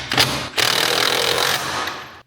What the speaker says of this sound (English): So now I just need to tighten these bolts up and that's going to be it fully in.